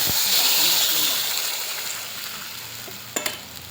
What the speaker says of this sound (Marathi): हे बघा तेल टाकून चांगला कढीपत्ता लाल झाला आहे.